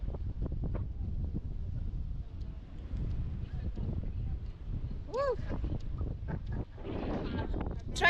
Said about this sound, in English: It's very windy, and the fact that we're right by the ocean, it's just so windy